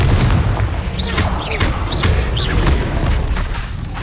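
A Confringo spell explosion in the Hogwarts Legacy video game, a loud, dense blast with crackling bursts sustained across the whole stretch, mixed with other spell effects and no speech.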